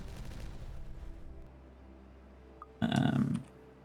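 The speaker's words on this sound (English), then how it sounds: "So let's detonate that." Explosives detonating in Timberborn: one short, loud blast rumbles for about half a second after a faint click, following a quiet stretch of low ambient hum.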